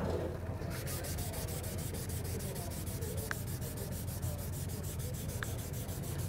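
Hand sanding with sandpaper in straight back-and-forth strokes, a quiet steady rasping friction that continues without pause, with two faint brief ticks partway through.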